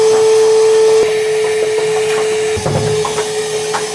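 Shop vacuum cleaning a car: a loud, steady motor whine with a constant high tone, broken by knocks and shuffles as the nozzle bumps around the interior.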